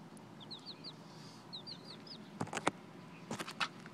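Chickens cluck and chirp softly at moderate distance, with a few short louder squawks bursting out near the end over a quiet barnyard background.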